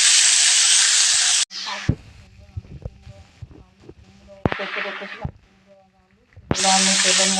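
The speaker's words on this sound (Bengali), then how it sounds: "এবার আমি কুমড়ো আলুটাকে হালকা করে ভেজে দিতে হবে।" White pumpkin and potato pieces hit hot oil with a loud sizzle that settles into quieter crackling and popping, then surges back to a full hiss; a person speaks briefly over the frying.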